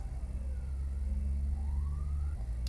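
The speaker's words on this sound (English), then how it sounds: "Ambulance." An ambulance siren wails as it passes at a distance, its rising and falling tone riding over steady low traffic rumble.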